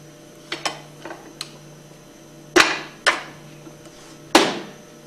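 Sharp metallic taps from pressing an old seal out of a 2400 plunger pump casing with a bolt or piece of PVC pipe, several separate knocks spaced irregularly, close and fairly loud with quiet gaps between.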